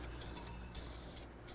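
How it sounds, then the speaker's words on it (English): Spray primer hisses in a faint, steady stream onto MDO plywood, applied as a coat while building a planter box bench. "I also want to take the time to spray the edges of the MDO board"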